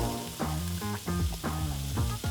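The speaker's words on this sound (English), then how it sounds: "sizzle noise, that's what you want to hear" A steak sizzles in a hot frying pan after being turned, giving a steady close hiss throughout, overlaid by a recurring tonal, melodic sound.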